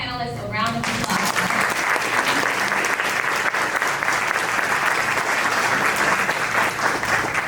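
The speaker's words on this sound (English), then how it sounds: "Can we give our panelists a round of applause?" Sustained, loud audience applause fills a conference hall for panelists at a Black men's mental health conference in Houston, steady dense clapping from many hands after a voice briefly at the start.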